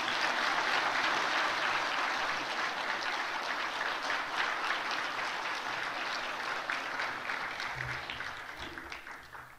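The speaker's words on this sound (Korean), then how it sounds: "박수로 한번 격려하겠습니다." A church congregation at a Sunday worship service applauds steadily for several seconds, a dense wash of clapping from many hands that slowly fades toward the end.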